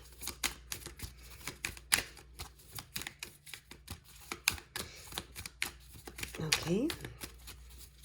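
Gypsy Oracle cards being shuffled and handled, with repeated crisp riffling and tapping bursts at close range, a brief spoken word in the middle and a soft rising swish near the end.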